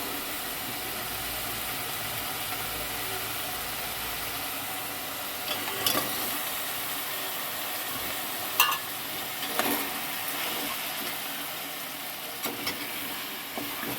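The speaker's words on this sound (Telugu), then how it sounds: "ఇప్పుడు ములక్కాడలు వేసుకుంటున్నాము" Drumstick pieces stirred into prawn curry masala frying in a pan for a home-style Andhra curry: a steady, moderate sizzling hiss with a few sharp clacks of a spoon against the pan.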